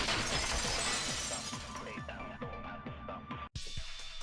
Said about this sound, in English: At the entrance, heard the sound of the window shattering.